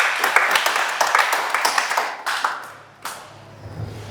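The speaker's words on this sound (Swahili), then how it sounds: "Tupatie makofi dada." A church congregation claps together in a brisk, loud burst of hand claps that trails off into scattered claps and quiet, with no talking over it.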